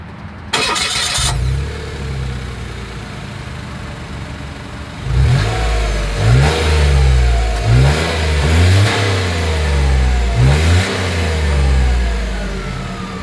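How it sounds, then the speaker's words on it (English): A 2024 Mitsubishi Mirage G4 starts up, settles into a loud idle, then revs its engine repeatedly in sharp swelling bursts heard close at the exhaust. "As always, here is that exhaust clip."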